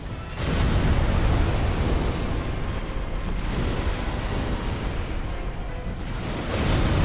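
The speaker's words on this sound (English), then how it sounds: "Make sure you keep a healthy distance from his explosion attack." A sustained roaring blast from a boss's explosion attack in Dark Souls: Prepare To Die Edition, a loud dense rumble that swells after a brief pause and holds for several seconds before another surge.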